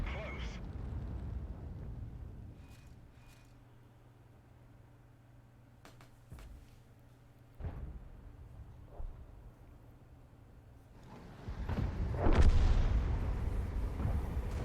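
Conqueror Gun Carriage artillery firing in World of Tanks, a few deep distant booms scattered through a low engine rumble, then a louder roaring stretch near the end, with someone commentating over it.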